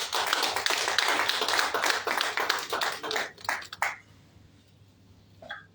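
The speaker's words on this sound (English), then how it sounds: "Please can we all clap?" Dense applause from a crowd at a Rotary Club charter presentation and induction, hands clapping for several seconds, then thinning out and fading to near quiet.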